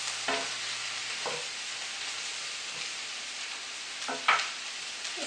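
Egg noodles and cabbage being stir-fried in butter in a pan, a soft steady sizzle with a few scraping stirs of a utensil against the pan, close and moderately quiet.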